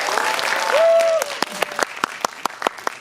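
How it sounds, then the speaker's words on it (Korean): A cinema audience at CGV Yongsan I'Park greets the director and actors of the film 'Birth' on stage: a brief whistle-like tone, then scattered, sharp individual handclaps that thin out and grow sparse. "뜨거운 박수로 보내주시기 바랍니다"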